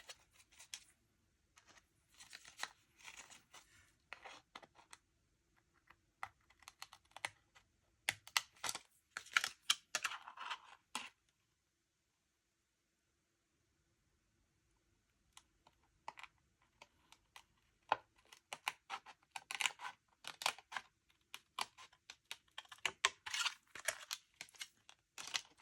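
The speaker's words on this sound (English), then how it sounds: "I'm going to trim around it with my scissors" Scissors snip around a paper card being trimmed by hand for a handmade birthday card, with bursts of crisp cutting and paper crinkling broken by a quiet pause midway.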